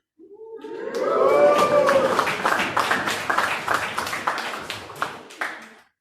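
Comedy club audience at a stand-up show bursting into cheers and clapping, a loud whooping crowd and dense applause that slowly fades out.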